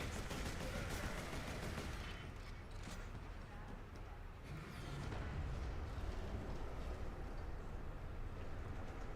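Dense, continuous gunfire and battle noise from the Warhammer 40k Space Marine video game, with a rapid rattle of shots and rumbling impacts filling the whole stretch at steady loudness.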